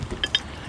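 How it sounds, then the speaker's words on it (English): A Durbin ratchet handled briefly, giving two quick metallic clicks close by over faint background noise. "Here's a ratchet made by Durbin."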